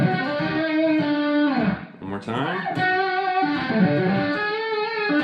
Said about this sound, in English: the first lick is this crazy tapped string skipping idea that revolves around Phrygian Dominant